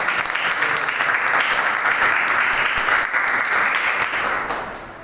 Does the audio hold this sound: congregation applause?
yes